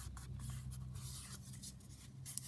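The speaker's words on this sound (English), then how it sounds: "so I'm just going to fold that over" A piece of card is folded over by hand, making a soft, close scraping and rubbing sound with brief crinkles.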